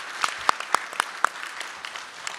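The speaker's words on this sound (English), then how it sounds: "Everybody give them a round of applause" Sparse, scattered handclaps from a small group honoring a family at a 2019 Scout of the Year award event, with a few distinct loud claps standing out against a quiet room.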